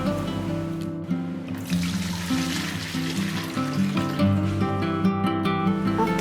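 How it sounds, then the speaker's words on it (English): Leftover water trickles and pours steadily as it is drained from a hydroponic seeding tray holding planting sponges, a close, continuous liquid flow with faint background tones and no voices. "we have to remove the leftover water on the seeding tray"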